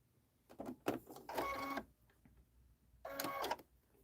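A sewing machine chain-pieces straight stitches in two quick bursts of rapid mechanical whirring, close and fairly quiet, separated by short pauses.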